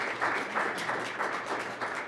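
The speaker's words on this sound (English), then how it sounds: "I think our tremendous panel deserves a round of applause." An audience at a policy briefing applauds a panel, producing a steady burst of moderately loud clapping from a room full of people with no talk over it.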